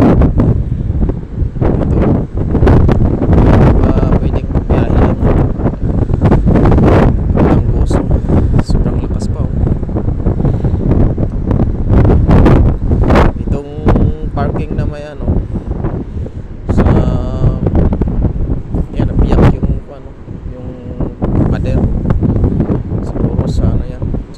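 Strong wind buffets the microphone at San Julian on the Maltese coast, with waves washing against the shore beneath loud, gusting roar; a voice speaks intermittently through the noise.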